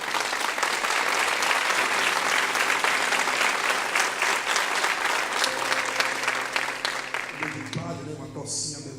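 Sustained congregational applause in a Portuguese-language church service, loud and continuous for several seconds with sustained instrumental tones beneath, then fading as the music continues.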